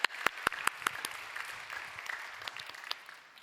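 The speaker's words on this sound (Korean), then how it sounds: "축복과 사랑의 박수로 함께하겠습니다" A church congregation at a young adults' Sunday service claps in brief applause, a few sharp near claps standing out over a softer spread of hands that fades within a few seconds.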